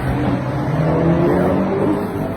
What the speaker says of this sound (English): sorry, traffic noise, but that's part of the story